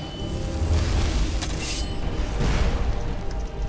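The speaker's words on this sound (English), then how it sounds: "Just explosions everywhere." Chaotic explosions go off in an Elder Scrolls video game battle, with loud rumbling booms and bursts following one another across a dense, continuous roar.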